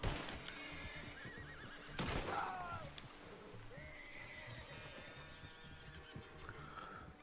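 A horse neighs in the open world of Red Dead Redemption 2, a rising, quavering whinny near the two-second mark, with hoof clip-clop and further fainter whinnies over steady game ambience.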